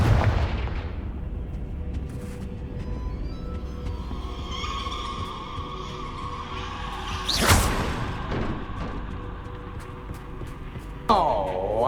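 Fiery Confringo spell blasts in the video game Hogwarts Legacy: loud booms and whooshing bursts over a rumbling battle soundscape, with a sharp sweeping swish near the end.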